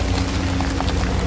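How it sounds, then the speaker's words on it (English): Water splashes from a city fountain in Chicago as a steady, close broadband wash, like heavy rain, with no voices. "Look how I'm walking through the middle of the fountain here without getting wet."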